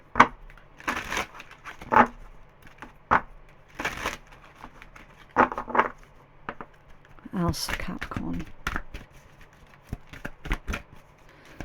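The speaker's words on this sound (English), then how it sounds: "This deck is so awkward to shuffle" A stiff tarot deck whose cards do not slide easily is shuffled in several bursts of brisk riffling and crunching, near and fairly loud, with a person talking in between.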